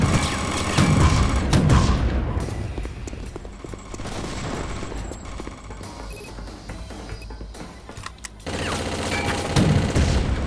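A continuous exchange of gunfire rages overhead in the Chaser video game, with rapid automatic bursts, scattered single shots and dull booms layered into a loud, dense, unbroken firefight.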